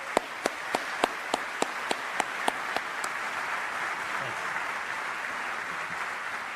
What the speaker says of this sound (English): I'd like to ask you to join me and give them a round of applause.